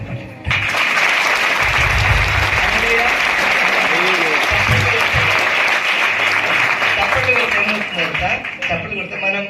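An audience clapping, loud and sustained from half a second in, a dense wash of applause that thins slightly near the end, with a voice faintly underneath at times.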